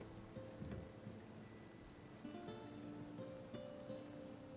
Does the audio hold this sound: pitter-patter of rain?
yes